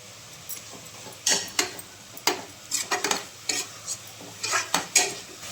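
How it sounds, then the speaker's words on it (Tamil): A metal spoon scrapes and clatters against a pan as tomatoes and turmeric fry in oil for road-side salna. The stirring strokes come in uneven clusters over a low, steady sizzle. "தக்காளி சீக்கிரம் வதங்குங்க."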